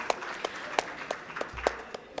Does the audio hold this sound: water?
no